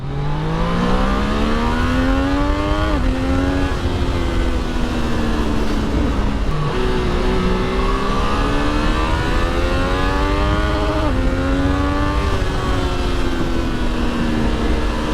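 A Triumph Daytona 660 motorcycle engine revs up repeatedly through the gears, its pitch climbing, dropping at each shift, and climbing again, loud and close with steady wind rush.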